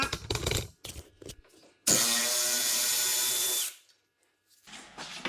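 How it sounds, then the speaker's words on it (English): A cordless power tool spins out Torx screws from the shoulder bracket of a Can-Am Defender in one loud, steady whir of about two seconds that winds down, with clanks and handling noise before and after. "Next, I have to remove the shoulder bracket, and I think these are 30 TORX as well."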